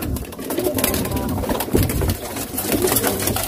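Pigeons cooing close by, with steady low throaty coos layered over a dense outdoor background and flutters of movement, no talking.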